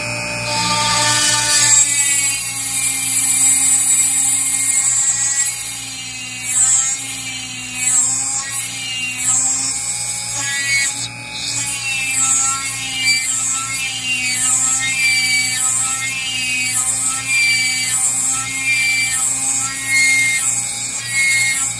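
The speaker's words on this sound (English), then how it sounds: "I'm gonna turn it on. Probably to about the second speed on the Dremel." A small Dremel rotary tool, at its second speed, whines steadily at high speed, its pitch wavering slightly as it drills into thick sea glass, continuous and fairly close.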